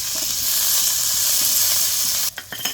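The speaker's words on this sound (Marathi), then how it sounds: "त्याच्यात थोडंसं तेल टाकायचं भाजताना दहा बारा लसणाच्या पकळ्या टाकायच्या" Garlic cloves sizzling in hot oil while being roasted, a loud continuous close-up hiss that holds steady, then breaks into a few short clatters and stirring sounds near the end.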